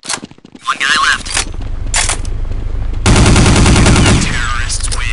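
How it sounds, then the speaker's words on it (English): Rapid automatic gunfire in a Counter-Strike: Condition Zero match on the cs_office map, loud and dense bursts with sharper single shots early on and a sustained heavy volley in the middle, faint game voices in the background. "Oh, look out, they're shooting!"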